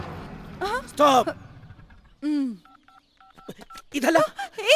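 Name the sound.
telephone dialing tones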